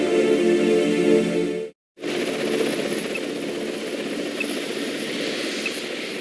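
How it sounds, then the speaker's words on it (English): A helicopter searching over wild forest terrain, its steady rotor and turbine drone loud and continuous, cut by a brief gap before resuming at an even level. "The helicopter quickly searches the area"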